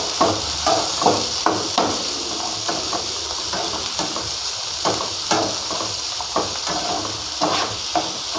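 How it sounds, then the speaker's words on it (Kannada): Potatoes fry in a pan for aloo kurma, a steady loud sizzle broken by repeated scraping knocks of a spoon stirring, with no talk. "ನೋಡಿ ಈ ರೀತಿ ಚೆನ್ನಾಗಿ ಫ್ರೈ ಮಾಡ್ಕೊಳ್ರಿ."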